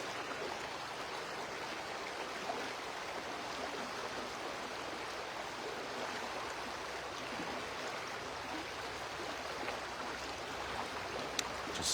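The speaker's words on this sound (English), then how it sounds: "Just tuning into the sound of the river." A flowing river fills the scene with a steady, broadband rush of moving water, constant and fairly close, with no talk over it.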